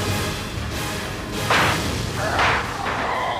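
Door being broken down in a police drama, with dull heavy thuds and swooshing impacts, two or three blows landing about a second apart, loud and without talk.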